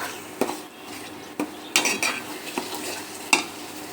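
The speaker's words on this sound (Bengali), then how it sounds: "এখন আমি মাংসটা দিয়ে দিচ্ছি। আমি মাংসটা কষাবো।" Meat being sautéed and stirred in a pan sizzles softly under a handful of sharp utensil scrapes and clanks against the pan, spaced irregularly.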